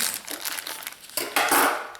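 Scissors cut into plastic packaging on a Minecraft Craftables toy being unboxed, producing crisp crinkling and crunching bursts that come in uneven snips, loudest toward the end.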